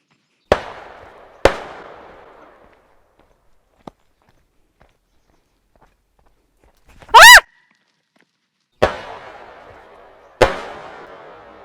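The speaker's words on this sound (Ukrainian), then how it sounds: "ось це були два постріли просто надзвичайно близько до мене, надзвичайно близько" Gunshots fired very close to the recorder during a hunt: sharp, loud cracks ring out in a quiet outdoor setting, two early and two later, with a brief tonal burst between them and no talk.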